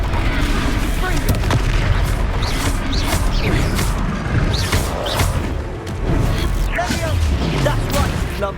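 Explosive Confringo spell blasts boom repeatedly through a Hogwarts Legacy battle near Hogsmeade, dense dull impacts and crackle layered over constant combat noise and shouted voices.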